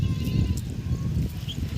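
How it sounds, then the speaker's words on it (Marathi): Farm goats bleat close by in a brief burst of overlapping cries over a low rumbling background. "ते बघा शेळ्या कशा टक्कर खेळत आहे"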